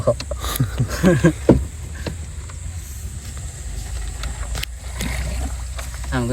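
A small boat moves along a small river beside a remote sandbar during a fishing outing, giving a steady low rumble and wash of water, with voices briefly heard near the start.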